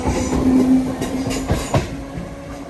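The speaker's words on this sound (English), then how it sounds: "Busy train, that one. It was only a 3-car set as well." A busy 3-car passenger train pulls out of a station nearby, its wheels rumbling and clattering steadily with a faint squeal, loud and alone without voices.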